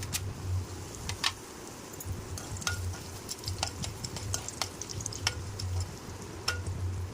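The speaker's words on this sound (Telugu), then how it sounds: "ఎండుమిర్చి ఫ్రై అయిపోయాయి" Dried red chillies and seasoning seeds frying in hot oil make a continuous soft sizzle with sharp scattered crackles and pops, close and moderately quiet, with no voices.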